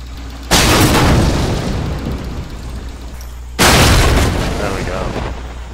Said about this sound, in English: Video game logic, shoot the red barrels.